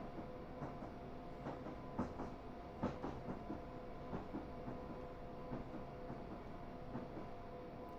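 Train running on rails in a train simulator game on the London to Brighton line, coming into a station with a steady low rumble and regular clickety-clack beats over the joints, fairly faint and continuous with no voices.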